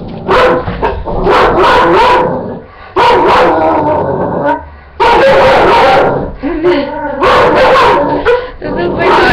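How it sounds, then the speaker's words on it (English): An excited dog barks, yips and whines close by in loud rapid bursts separated by short pauses, with high whimpering howls between the bursts. A person's voice may be mixed in. "this is my dog going crazy."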